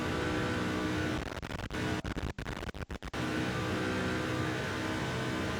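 A NASCAR 2005 stock car engine drones loud and steady, breaking into a string of quick cuts and blips as the gears change mid-run, then settling back into a constant roar.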